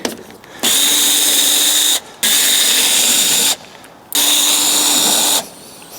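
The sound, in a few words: power tool undoing T30 Torx screws on Range Rover door latch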